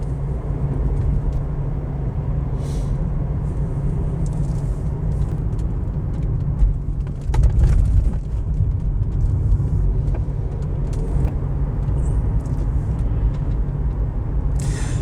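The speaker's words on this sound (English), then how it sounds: "I'm looking forward to the 55 or so minute drive back in my Ford Cougar." A Ford Cougar V6 drives along a road, its steady engine drone and low road rumble continuous and fairly loud from inside the car, with a brief surge of noise around the middle and no talking.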